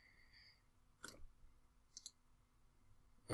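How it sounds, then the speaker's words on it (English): Computer mouse clicks while designing in Fusion 360, a few sharp, close taps spaced apart in a quiet room with no talking. "So I'm going to click OK."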